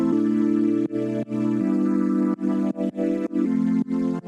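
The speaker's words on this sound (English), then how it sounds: "I actually found a pretty interesting patch in Omnisphere." Ambient chords from the Omnisphere Gospel Selena patch, limited to four voices, in a beat built from a MIDI pack; sustained chords play in a series of short, choppy stabs with brief gaps, and there is no speech.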